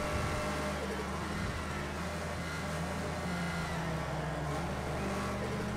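A Porsche supercar engine in a racing video game hums steadily at a fairly constant pitch, with a low drone and a slight rise and fall in tone, heard alone at moderate loudness.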